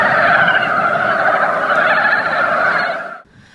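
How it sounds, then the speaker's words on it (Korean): Native frogs gather at a pond at Donggang ecological learning site during spawning, their dense, loud croaking chorus running continuously before cutting off abruptly near the end. "축제가 열리는 동강 생태학습장 연못에는 토종 개구리들이 산란을 위해 올라와 개구리 소리를 함께 들을 수 있습니다."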